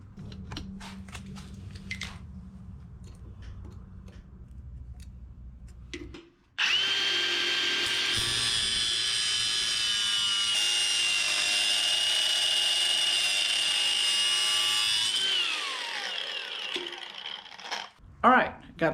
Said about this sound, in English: I'm gonna go ahead and cut those bottom 2 studs to length